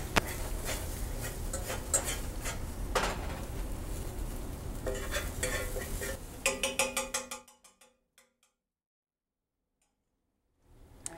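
Garlic cooking in a skillet for a spinach quiche, stirred with a utensil: steady sizzle under repeated metal scrapes and clinks against the pan, then a few sharp taps before the sound cuts to near silence.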